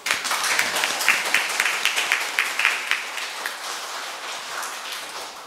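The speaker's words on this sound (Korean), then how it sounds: "우리 환영의 박수." A church congregation at Sunday Mass applauds to welcome visiting travellers, with lively clapping from many hands that gradually thins and softens toward the end.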